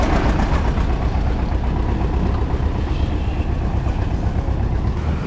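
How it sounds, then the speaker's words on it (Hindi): A passenger train stands at Itanagar railway station minutes before departure, its engine idling in a loud, steady rumble with faint station noise around it. "ये हमारी ट्रेन है और अभी कुछ ही मिनट बाकी है"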